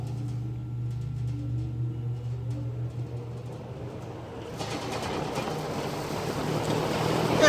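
A 1960s Hunter FL20 box fan switched on at its high setting, with a steady low motor hum that swells into a broad, louder whoosh of moving air partway through as the blades come up to speed, with faint blade rattle.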